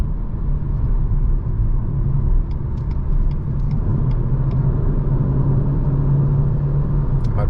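A 2023 Renault Clio E-Tech 145 hybrid accelerating at night, a steady low engine and road rumble with a faint whine, heard from inside the cabin.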